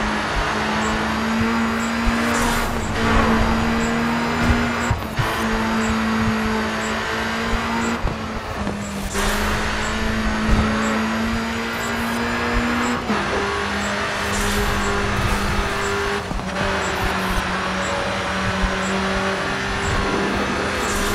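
A Caterham SP300R race car in the GRID 2 video game screams through a checkpoint race on the Côte d'Azur, its engine climbing through repeated gear changes with brief shifts and rising whines, loud and continuous.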